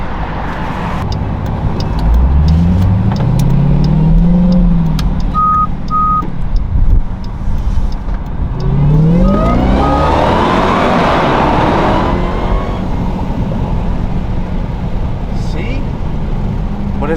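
A 2023 Dodge Durango Hellcat with stock exhaust, before a muffler delete, heard through an open window as its engine rises and falls in two revving sweeps with supercharger whine, close and loud, with beeping chimes and a voice now and then.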